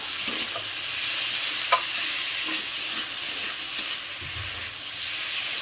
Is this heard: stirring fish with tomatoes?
yes